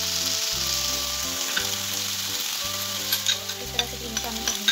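Cream is stirred into chicken with bell pepper in a pan, giving a steady sizzle with soft scraping strokes and a few sharper taps near the end, while background music plays throughout.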